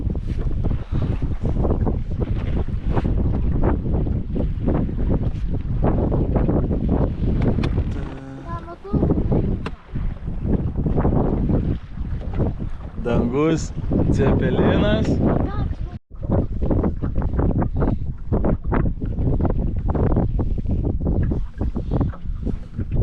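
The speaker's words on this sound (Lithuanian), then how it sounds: "plauksim kažkur slėptis nuo vėjo, nes jo vėjas dabar daužo" Strong wind roars and buffets across open water in Ireland, with a perch-fishing boat's noise constant throughout and people talking over the gusty rumble.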